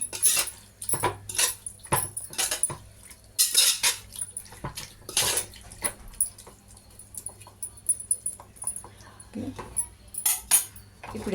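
A spoon stirs hot oil in a pot while prawn dum biryani is being made, with repeated clinks and scrapes of metal on metal in uneven bursts. A dog whimpers faintly in the background and there is occasional low talk.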